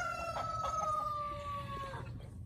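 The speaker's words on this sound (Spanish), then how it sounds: "Miren, ahí andan los otros pollitos." A chicken gives a long, drawn-out call with some clucking around it, fairly faint against a steady outdoor background.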